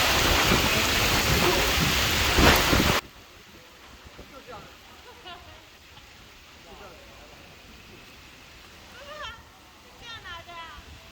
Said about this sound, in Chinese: 能够明显感受到风噪和较为清晰的暴雨声